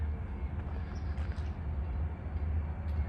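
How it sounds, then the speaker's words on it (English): A freight train approaches through a town in Mount Orab, Ohio, as a low, steady rumble that sits mostly in the bass, moderately distant and continuous with faint higher rattles above it. "Here comes the train."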